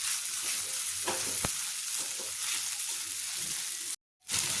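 Sabudana khichdi stirred in a pan over a very low flame: a soft continuous sizzle with scraping spoon strokes against the pan, broken by a brief silent gap near the end.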